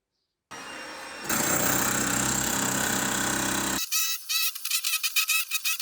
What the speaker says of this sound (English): Using the hammer definitely made the surface breakup work quicker